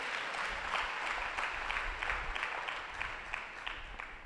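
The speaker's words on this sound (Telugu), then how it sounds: "కొట్టి చప్పట్లు ఒకసారి" A church congregation at a Telugu Krupa Ministries service in Guntur claps together in a soft, steady round of applause, somewhat distant and even, with no talking over it.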